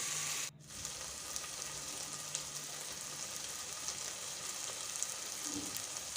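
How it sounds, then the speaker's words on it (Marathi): Finely chopped tomato sautéing with browned onion in a pan makes a soft, even sizzle close by, beginning after a brief clatter and continuing steadily. "टमाटर सुद्धा छान परतून घ्यायचं आहे"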